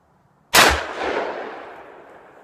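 A Chiappa X-Caliber rifle fires a single .45 ACP round outdoors, a sharp loud crack up close followed by a long rolling echo that fades slowly.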